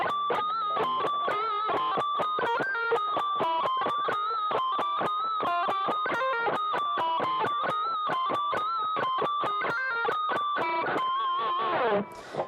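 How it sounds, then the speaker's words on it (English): An electric guitar with distortion plays a steady run of squealing pinch harmonics. The high, pitch-bending notes are picked in a quick rhythm at close range, with no talk over them. "So these are called pinch harmonics"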